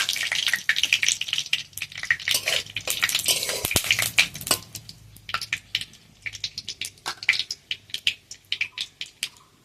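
Whole garam masala and bay leaves fry in hot mustard oil in a kadai, crackling and spitting in close, uneven bursts with scraping stirs, loud then thinning into scattered pops.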